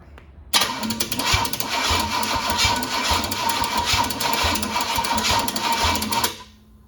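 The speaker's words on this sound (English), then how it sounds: "Need to get a better starter on here to really crank it and see what we got." A 454 Mark V engine cranks on its starter in one sustained, steady whirring, chattering run lasting several seconds, close and loud, then cuts off abruptly.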